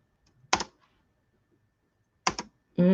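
Keys on a computer keyboard clatter in two short bursts of a few rapid taps each, close and crisp against near silence, followed by a brief buzzy tone.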